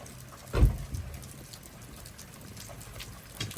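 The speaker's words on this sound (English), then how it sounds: "it is really rainy and I don't want my camera getting wet" Steady rain falls outdoors, a soft even hiss with a single louder thump early on, otherwise a constant faint patter throughout.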